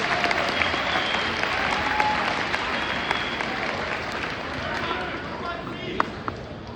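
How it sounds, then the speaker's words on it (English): Sustained applause from a large crowd at a school spring sports pep rally, steady and dense throughout, with a few sharper claps standing out near the end. "big round of applause"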